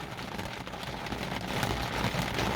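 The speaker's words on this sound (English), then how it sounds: "It's a little bit loud because we're actually doing the video in the rain." Steady rain pours outdoors beside a Fiat 595 Abarth, a dense broadband hiss of drops hitting surfaces that swells slightly louder toward the end, with no voices.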